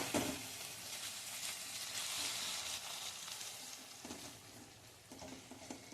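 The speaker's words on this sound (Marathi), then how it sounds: "हे टोमॅटो व्यवस्थित शिजेपर्यंत आपण हे परतून घेणार आहोत" Chopped tomatoes being sautéed in a pan over high heat for chole, a soft continuous sizzle with occasional scraping stirs of a spoon, fairly quiet and without talk.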